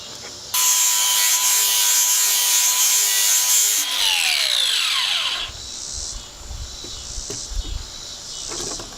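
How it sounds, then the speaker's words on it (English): A power sander grinds rust and old paint off a steel box blade outdoors, loud and continuous for several seconds before spinning down with a falling whine, followed by quieter rubbing and scraping. "if you're sanding with something like this, a power sander"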